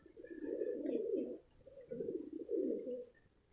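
Pigeons coo softly and close by in three low, throaty phrases, with faint chirps and background sounds in between.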